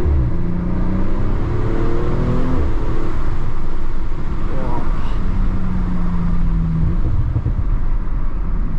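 A 2021 Audi RS5 facelift with a 2.9-litre biturbo V6 accelerating hard, a steady, loud engine drone with rising tones heard from inside the cabin while someone talks over it.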